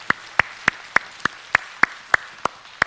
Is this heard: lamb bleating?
no